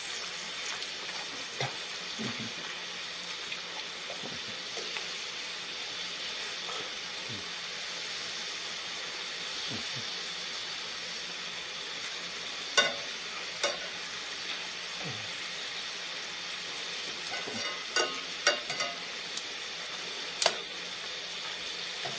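Steaks sizzle steadily as they fry in a pan, a continuous crackling hiss with occasional sharp pops and clinks of a utensil.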